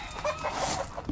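Short burst of clucking from a young blond chick among a family of chickens, close and moderately loud, a few uneven soft calls over a brief stretch with no talking.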